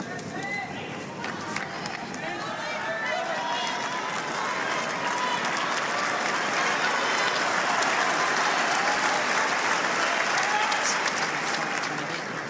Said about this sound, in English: Crowd goes nuts.